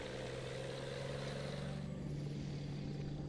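Truck engine in Euro Truck Simulator 2 drones as a steady low hum with a sustained tonal note, faint and unchanging, with a slight shift in pitch partway through.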